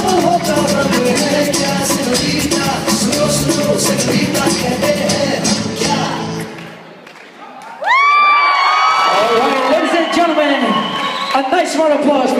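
A crowd at a kids' performance cheers and shouts, with children's voices whooping loudly over dense chatter and music, then a brief dip before high excited shrieks and calls burst out again.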